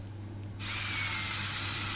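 A newly bought cordless drill fitted with a hook-and-loop sanding attachment starts up and sands a dirty wooden board, a steady loud whirring scrape close by after a brief quiet start.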